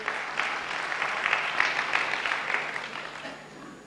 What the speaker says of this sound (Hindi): तालियां बजाइए शास्त्री जी के लिए